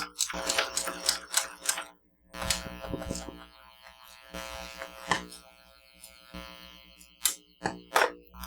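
A sewing machine stitches through raffia material, its needle chattering in quick mechanical bursts separated by brief pauses, close up and fairly quiet.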